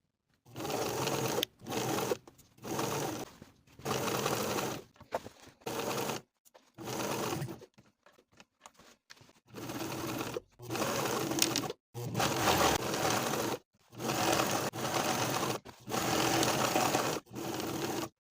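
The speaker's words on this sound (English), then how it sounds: "Then we'll do our double top stitching, first edge stitching, then stitching a 1/4 of an inch away as we've done for the previous pockets" Sewing machine double top stitching a pocket on elastic-waist pants, loud close bursts of rapid rhythmic stitching that repeatedly stop and start with short gaps.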